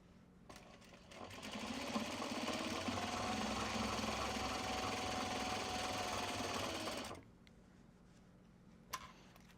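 A sewing machine stitches an upcycled tablecloth into a small traveler sling, running at a steady, fast hum for about five seconds and then stopping abruptly, followed by a brief click.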